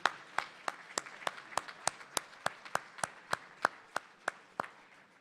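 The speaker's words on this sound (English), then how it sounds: "Please join me in giving everyone a big round of applause." Faint, evenly spaced claps repeat at a steady, slow rhythm, about three per second, each a crisp isolated smack with quiet in between rather than a full crowd roar.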